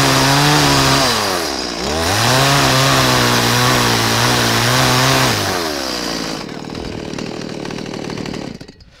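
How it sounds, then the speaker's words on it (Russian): A petrol chainsaw notches a wood log for a log-house cup joint, its loud close engine whining high, dipping briefly under load, then racing again before cutting off toward the end, with no talk. "несмотря на то, что бензопила, она требует таких нормальных усилий, чтобы ей управлять"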